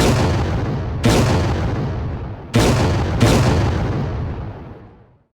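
Tanks firing on a hospital in a war scene from the Battle of Ortona: three heavy, booming cannon shots, close and loud, each trailing off in a long rolling echo, with no speech.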